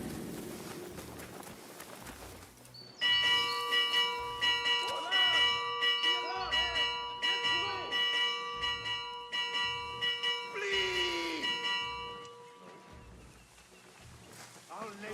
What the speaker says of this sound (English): I'll ring the bell!